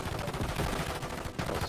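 Rapid gunfire in a Call of Duty match, with a continuous run of faint, distant shots packed closely together and no talking.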